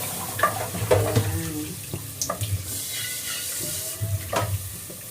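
Garlic sizzling in butter in a pan for creamy sopas, a steady close hiss broken by clinks and scrapes of stirring, with faint talk in the background.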